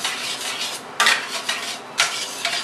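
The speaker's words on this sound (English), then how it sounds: "I'll stir that up and see if I need to add more." A spoon stirs crushed tomatoes from a 28-ounce can in a cooking pot, giving soft wet scraping strokes at a steady pace with a few louder scrapes against the metal, close by, with no talking.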